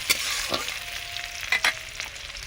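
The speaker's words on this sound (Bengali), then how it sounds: "দিয়ে দেবো পেঁয়াজ কুচি, একটু লাল লাল করে ভেজে নেব।" Chopped onions fry in hot oil for a Bengali hilsa fish curry, a loud close sizzle broken by a few sharp spatula scrapes and stirring bursts.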